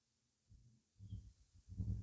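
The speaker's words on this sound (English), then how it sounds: "I am so sorry if you guys can hear my dog snoring in the background" A sleeping dog snores softly in the background, three low rumbling breaths coming in a slow, even rhythm, faint and close, with no other sound around them.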